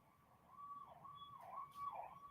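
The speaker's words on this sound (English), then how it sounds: "It's an ambulance." An ambulance siren wails at a distance in a steady rising-and-falling cycle, faint but clear over quiet street background with no talk.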